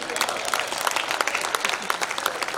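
Audience clapping at a school annual function poetry recital (kavi sammelan), a short burst of steady applause from a crowd filling the room.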